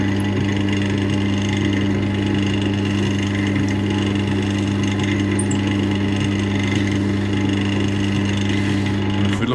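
A wood lathe keeps running while it turns an oak and walnut pen, producing a steady, loud motor hum with a constant tonal drone that stays unchanged throughout and has no voices over it.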